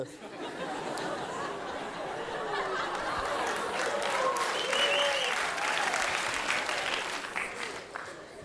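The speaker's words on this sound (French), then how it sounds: "Ça veut dire quoi d'applaudir comme ça?" A theater audience applauds a stand-up comedian on stage, sustained clapping that swells in the middle, with murmuring chatter and scattered laughter mixed in.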